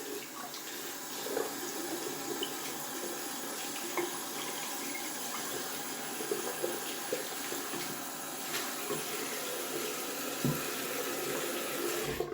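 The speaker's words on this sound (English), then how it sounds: "And then I rinse off the puck with some hot water." Hot tap water runs steadily over a shaving soap puck made with wool fat, a constant splashing hiss lasting about twelve seconds, close and alone with no voices.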